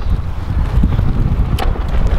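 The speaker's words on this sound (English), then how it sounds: "It's kind of windy out here." Strong wind gusts outdoors buffet the microphone, a loud, constant low rumble outside an outdoor sporting goods store with no talk.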